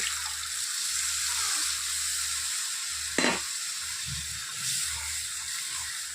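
Broth poured into a hot pan of pomfret curry, giving a steady close sizzle and hiss with a brief splashing pour midway.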